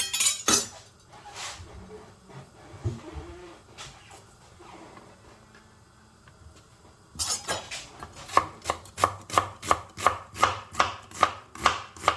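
A knife chops peppers on a cutting board during a cooking demonstration. Quieter clatter of cookware comes first, then a steady run of crisp, evenly spaced chops, close and fairly loud.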